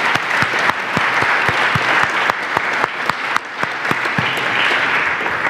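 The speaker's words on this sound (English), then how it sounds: "would you please give our esteemed panelists a nice round of applause" An audience applauds panelists at a transportation forum, dense steady clapping from a roomful of people lasting several seconds at close, even loudness.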